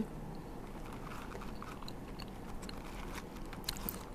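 Pickled shrimp eaten with beef noodles, close, quiet crunchy chewing with small crisp bites over a steady low background.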